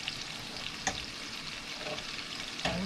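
Cod fillets fry in butter in a pan, a soft continuous sizzle with a few sharper pops and clinks, fairly quiet and close with no talking.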